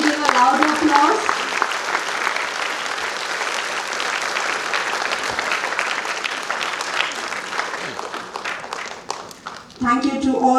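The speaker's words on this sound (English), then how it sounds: "Kindly give a round of applause." Sustained applause from a large audience at a Catholic educational institutions day event in Goa, thick continuous clapping that fades near the end, with voices speaking briefly at the start and again as it dies away.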